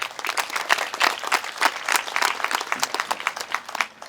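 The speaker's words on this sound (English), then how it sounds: "we're going to give them a round of applause anyway" Audience applause at a school graduation ceremony for student school board members, a steady wash of dense clapping that fills the room for several seconds without a break.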